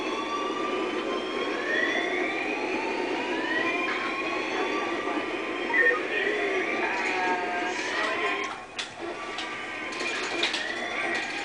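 Jet engine of an airplane in GTA 5, a steady broad roar with rising and falling whine tones holding throughout, loud and close with no talking.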